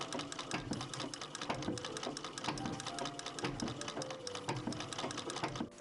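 A sewing machine stitches through a layer of fabric with a quiet, fast, steady mechanical chatter.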